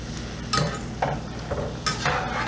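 Egg-battered chicken and cheese chiles rellenos frying in oil over medium heat, a steady close sizzle with a few scrapes and soft pops as a spatula stirs and flips them.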